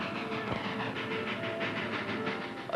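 A train rolls along its rails with a continuous rumbling roar and faint rhythmic clatter, steady and fairly close throughout, with no voices.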